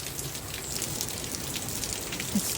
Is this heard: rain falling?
yes